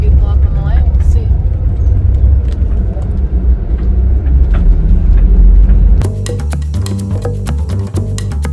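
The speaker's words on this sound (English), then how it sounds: "The bus just started moving" Bus pulling away and driving, a loud low engine rumble with road noise throughout, shifting to a rattling, clattering ride with sharp knocks in the last few seconds.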